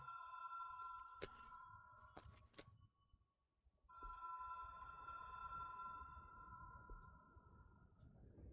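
A telephone rings in the video game Control, sounding as two bursts of bright, electronic-sounding rings separated by a short pause, loud and close with no talking.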